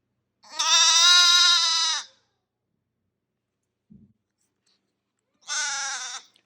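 A baby lamb bottle-raised inside a farmhouse gives two clear, loud bleats, one long and one shorter, separated by near silence and a faint tap.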